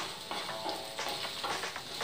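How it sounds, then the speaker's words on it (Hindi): Green chilli and ginger fry briefly in a pan for aloo vada, giving a faint, continuous crackling sizzle with small irregular pops and no voices. "1 सेकंड के लिए अदरक और मिर्ची को हम हल्का सा भून लेंगे।"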